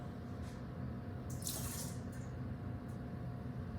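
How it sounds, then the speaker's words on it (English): Châteauneuf-du-Pape red wine from the southern Rhône pours into a glass in a short, faint trickle over a low background hum. "I'm gonna pour a little bit of this beautiful wine into the glass"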